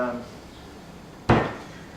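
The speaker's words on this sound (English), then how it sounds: "It's a lot easier to open the coconut when the fluid's out of it because there's no pressure on the inside, so you can open that up. With a hammer and chisel" A hammer drives a chisel into a coconut once: after a quiet moment comes a single sharp, loud crack that rings briefly and fades.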